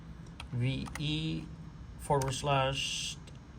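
Typing on a computer keyboard to enter a Windows 11 setup bypass code, with a voice talking over much of the clicking at close range.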